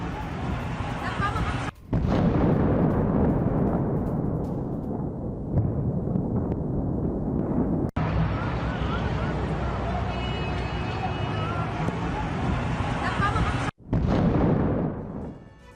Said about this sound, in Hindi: एयर स्ट्राइक से बेका में बड़ी तबाही की खबर है। भीषण बमबारी में 7 इमारतें जमींदोज हो गई हैं।